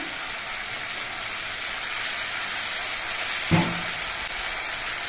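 Vegetables fry in a pan with turmeric, ground cumin and a splash of water, making a continuous close hiss and sizzle, with a single brief clatter of stirring partway through.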